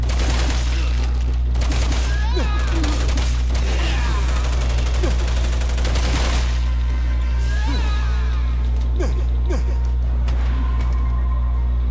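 Rapid volleys of gunfire from the video game Resident Evil 6, with dense bursts and scattered single shots over a steady low background hum, partly under voices.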